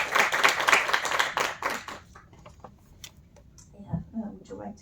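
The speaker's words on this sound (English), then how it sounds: "let's give them a warm applaud and welcome" A seminar audience claps in welcome for about two seconds, a short burst of scattered applause that quickly dies away into quiet room sounds and a few stray noises.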